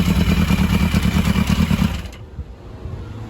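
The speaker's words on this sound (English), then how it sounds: "I backed down the choke, and she's sitting here idling" A Yamaha Maxim 750 motorcycle engine idles close by with a steady, even throb, then cuts out abruptly partway through, leaving only faint background noise.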